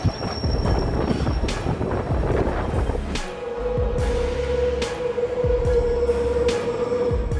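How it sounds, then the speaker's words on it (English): A Yuru Camp themed train runs along the Tenryu Hamanako Railway toward Lake Hamana, a steady rumble of wheels and motor with wind buffeting the microphone and a sustained drone settling in partway through, with no voices. "Styled after Yuru Camp, this themed train travels along the Tenryu Hamanako Railway on its way to Lake Hamana"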